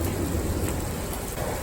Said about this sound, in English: I don't know what direction this storm is going.